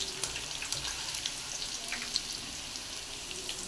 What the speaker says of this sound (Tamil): பூண்டு வந்து க்ளீனாக வறுத்து எடுத்துடலாம்